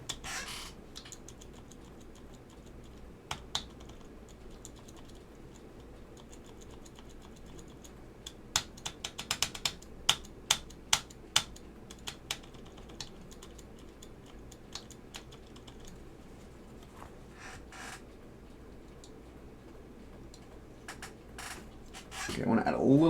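Keys are pressed on a Geon Frog TKL keyboard fitted with Alps SKCM Ivory switches and pushed into foam, sparse irregular clicks and taps with a quick burst of sharper strokes midway, over a quiet background.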